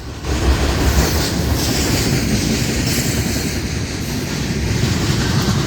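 A northbound passenger train rolls past near Fort Pierce, a loud, steady roar of wheels and clattering rail joints that fills the whole stretch up close.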